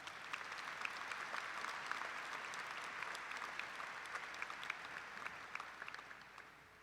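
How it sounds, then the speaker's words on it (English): A crowd applauding at the Murray State University commencement ceremony, with steady, distant clapping from a large audience that holds evenly before easing off at the end. "Let's give him a round of applause as well."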